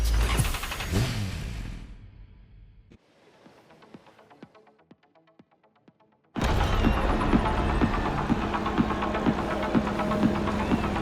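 Racing engines from The Crew Motorfest roar loudly with revving and throbbing tones, drop to a quieter sputtering interlude, then surge back at full volume with steady rhythmic pulsing.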